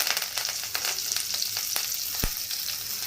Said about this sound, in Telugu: బాగా నీడలో ఆరబెట్టుకున్న కరివేపాకు కూడా వేసి బాగా ఫ్రై చేసుకోవాలి.